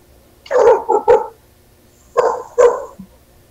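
A dog barks twice in pairs, two sharp barks, a pause, then two more, fairly close against a quiet background.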